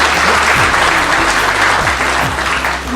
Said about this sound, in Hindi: सभी के लिए एक बार जोरदार तालियां।